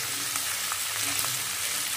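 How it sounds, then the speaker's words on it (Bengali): Vegetables frying in a hot pan, a dense continuous sizzle with faint stirring scrapes, close and steady with no talk. "সবজিগুলো ছেড়ে দিচ্ছি"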